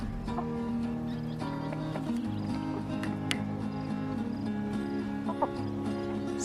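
Ten-week-old Cornish cross meat chickens cluck and murmur in a steady barnyard chorus, close and continuous, with occasional sharper calls standing out.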